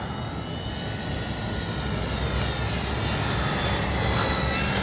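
A Dynam DHC Beaver V2 RC plane flies on its maiden flight with the electric motor at about half throttle, a steady whining drone that rises slightly in level and stays continuous without speech.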